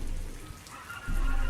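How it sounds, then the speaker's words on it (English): Soft drizzle patters steadily outside a house, a gentle continuous hiss of light rain with a faint swell in intensity near the end. "The rain outside had slowed to a soft drizzle"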